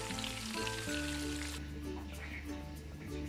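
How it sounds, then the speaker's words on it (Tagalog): Store-bought meatballs fry in a pan with a continuous soft sizzle and crackle, low in level, while a voice and faint background tones sit under it. "Prituhin lang natin."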